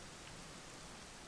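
Steady rain hissing down in the video game Dragon Quest XI, a dense, even wash of falling drops that stays faint and unbroken throughout.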